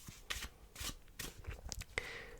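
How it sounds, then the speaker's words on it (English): A deck of playing cards is shuffled a couple of times in quiet, close riffling bursts and soft flutters, gentle and intimate with no talking. "Let's give it a shuffle a couple times."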